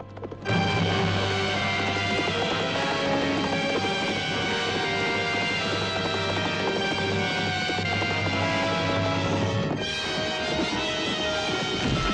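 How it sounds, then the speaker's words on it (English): Horses gallop with rapid, steady hoofbeats that run loud and unbroken for about twelve seconds, layered with dense, full sound throughout. "That horse is swift."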